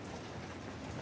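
Cold, freezing rain falls in Curitiba as a dense, steady hiss of drops, continuous and even with no voices.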